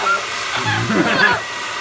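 A hair dryer blows warm air on a parrot with a steady airy whoosh throughout, close and fairly loud, with faint voices murmuring underneath.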